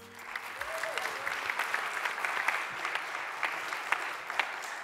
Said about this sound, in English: I want a grand hand of applause for the students from Bangkok